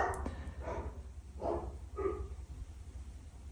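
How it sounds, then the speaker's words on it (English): Dogs bark a few times in the distance, three or four faint muffled woofs spaced about half a second apart over a low steady hum. "I'm trying to just go through the dogs barking"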